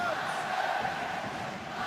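Fanatical rugby crowd at Clermont Auvergne roaring in support during a Heineken Cup match against Harlequins, a steady distant wash of cheering and chanting under a commentator's voice.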